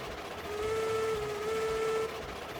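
A steam locomotive whistle in the Railroads Online video game sounds one steady, sustained tone for about a second and a half over a low rumbling, hissing engine background.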